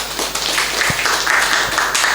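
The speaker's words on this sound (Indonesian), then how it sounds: "boleh kasih tepuk tangan dulu." Applause from an audience at a talk show event, a steady wash of clapping lasting the full two seconds at moderate loudness with no voices over it.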